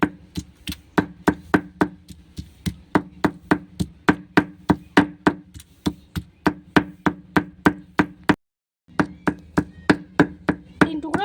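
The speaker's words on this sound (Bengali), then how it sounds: "আমি সিলে থেতো করব যেহেতু সিলে থেতো করা আলাদা অন্যরকম একটা টেস্ট লাগবে" Beef pounded on a traditional grinding stone: steady, evenly spaced heavy thuds at a quick rhythm, close and clear, with one brief pause before the pounding resumes.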